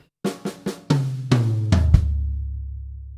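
A quick drum fill rolls across the toms, with several rapid hits building to heavier strokes backed by bass drum, then a booming low decay rings out.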